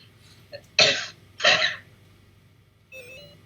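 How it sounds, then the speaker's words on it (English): Two sharp, loud coughs from a person still recovering from COVID, close to the mic and spaced about half a second apart, followed by a short faint vocal sound. "I got COVID back in February, and I still have not gotten over the cough"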